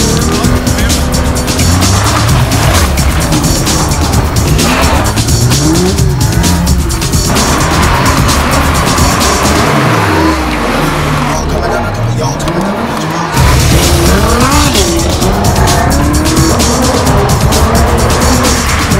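A Nissan GTR drifts hard, its engine revving and wailing in loud rising and falling sweeps as tires squeal and skid close by, with voices shouting now and then over the din.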